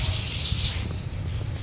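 A colony of swallows under a bridge over a canal, with quick high chirps and twitters over a constant background of rushing water, no voices.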